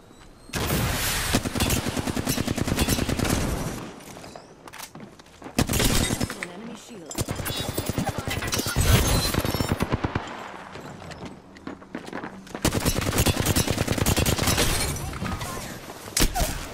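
Bursts of rapid charge rifle fire in the Apex Legends battle royale, loud and close, with several volleys separated by short gaps.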